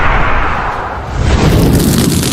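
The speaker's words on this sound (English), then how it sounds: "cast fire magic, causing an explosion" An explosion from fire magic, a loud, close roaring blast that dips briefly and then swells into a second, heavier rumbling surge.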